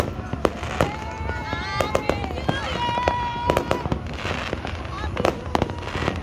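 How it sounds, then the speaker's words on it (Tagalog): Sharp New Year fireworks bangs and crackles burst repeatedly at irregular intervals, with whistling rises and people talking and cheering throughout. "May libreng fireworks diri sa Puerto na."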